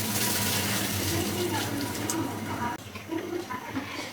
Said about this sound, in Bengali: একেবারে গরম জল দিতে হবে।